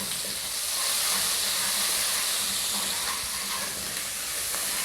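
Garlic ginger paste frying with cumin in a pan for samosas gives a steady, close, hissing sizzle that holds evenly throughout, with no talk.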